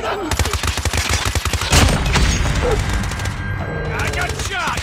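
Rapid bursts of gunfire from a shooter video game's hardpoint match, loud and dense early on, then a heavy boom followed by continued rumbling shots and game effects.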